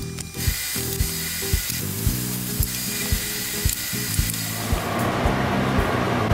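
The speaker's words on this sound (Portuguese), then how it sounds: "enquanto o bacon estava fritando" Bacon fries in a frying pan with steady sizzling and spitting, broken by clinks and knocks of a utensil against the pan, close and fairly loud.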